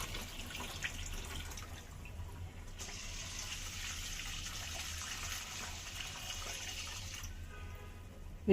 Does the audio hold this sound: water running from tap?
yes